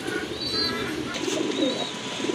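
Several pigeons cooing softly in a loft, low murmuring coos that rise and fade over steady background noise, with faint chirps of other birds higher up.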